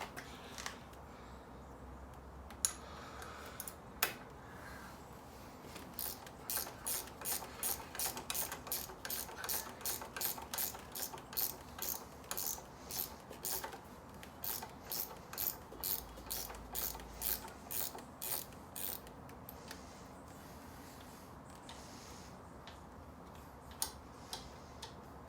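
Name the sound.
ratchet turning a 12mm bolt on a motorcycle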